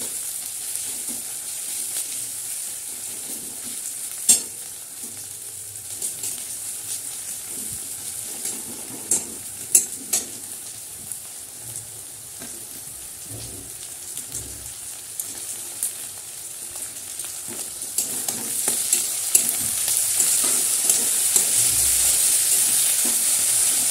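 Onions fry in a pan with a steady sizzle throughout, and a spoon or spatula stirs now and then with sharp scraping clicks, close by and with no talking.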